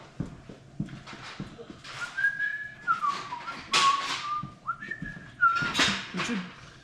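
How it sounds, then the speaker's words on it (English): A man whistles a short tune nearby, rising and falling clear notes broken by pauses, with scattered knocks and taps in the background during work on a Dodge Durango SRT 392. "You can tell me what I was whistling."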